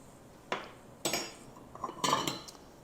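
A metal spoon clinks against dishes while a one-pot beef pasta goulash is served, giving three or four sharp separate clinks and scrapes close by, with no talking.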